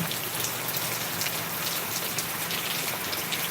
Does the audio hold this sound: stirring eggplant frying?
no